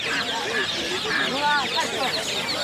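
Hybrid chickens clucking and calling at a busy rural poultry market, their short rising calls repeating close by over a steady crowd murmur, with people talking nearby.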